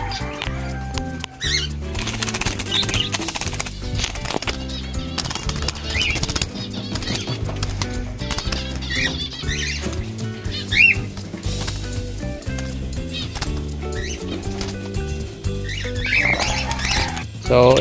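Caught parakeets flap their wings in bursts of rapid fluttering and scuffling at close range, with chirps and a voice talking over parts of it.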